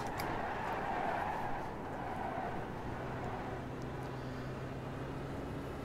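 A race car engine in the iRacing sim drones continuously at a fairly low level on the Bathurst track, with steady tire and road noise and a sustained engine tone that shifts gradually, with no talking.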